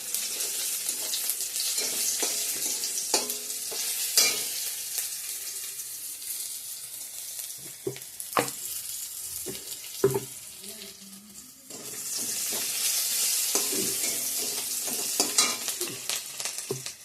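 Egg curry spices frying in a hot pan, a continuous sizzle broken by repeated stirring scrapes and knocks of a utensil, close and fairly loud, the sizzle swelling again after a brief lull.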